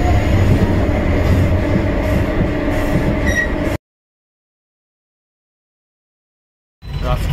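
A train at a station rumbles loudly and steadily nearby, its rolling wheels and carriage noise filling the first half before the sound cuts out, then resumes at the end.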